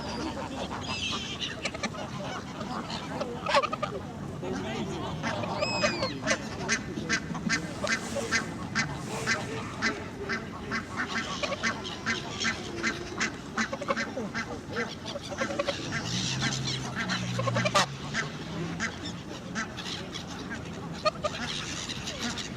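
Ducks and other birds feeding on bread crusts quack and honk in a busy, irregular chorus, some calls close and loud, with a person talking now and then.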